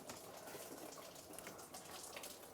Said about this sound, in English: And now the coolant's draining into the bucket.